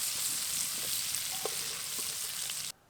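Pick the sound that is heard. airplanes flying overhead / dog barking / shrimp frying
shrimp frying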